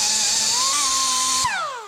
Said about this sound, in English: gonna hit it with wire wheel.